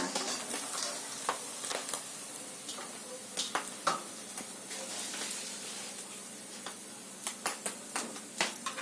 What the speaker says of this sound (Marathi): मावशी साबू तांदूळ मस्त छान तळते बघा कशी